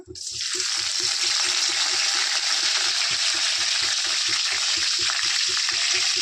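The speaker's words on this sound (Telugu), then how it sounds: "కొంచెం ఆవాలు చిటిపట్లు ఆడాలి." Mustard seeds splutter and crackle in hot oil in a kadai, a dense, steady sizzle with soft rhythmic popping throughout, fairly close and alone without talk.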